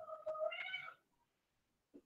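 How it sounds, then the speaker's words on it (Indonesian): A cat meowing nearby: one drawn-out tonal meow that rises at the end, then silence and a faint short sound. "Ini kucing saya berisik juga nih."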